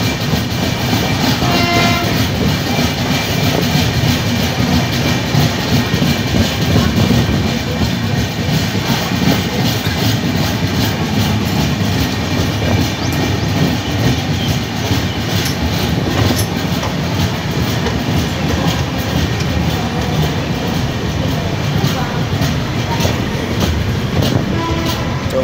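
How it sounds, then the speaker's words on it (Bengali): The Poorva Express, New Delhi to Howrah, pulls into Babua Road junction with a loud continuous rumble and wheel clatter heard from aboard. A horn sounds early, and the noise stays steady and close throughout with no talk. "আমরা বাবুয়া রোড জংশন, বাবুয়া রোডে ঢুকে গেলাম।"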